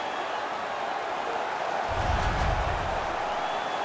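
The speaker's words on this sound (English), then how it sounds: "The home crowd is ecstatic. They're making all kinds of noise." Home crowd roaring in an NHL 19 ice hockey game after a fight between Philadelphia and Winnipeg: a steady wash of arena noise that swells into a louder cheer midway, heard at a distance.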